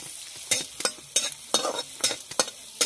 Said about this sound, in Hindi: सबसे पहले डाल दे रही हूँ लहसुन, और लहसुन को थोड़ा सा भून लेंगे हम।